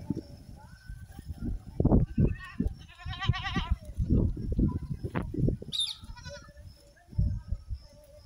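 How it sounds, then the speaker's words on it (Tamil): Goats bleat while grazing on a goat farm, several wavering calls rising over nearby rustling and movement, with a person talking at times in the background. "ஆட்டுங்க இங்கே மேய்ஞ்சிட்ருக்காங்க பாருங்க."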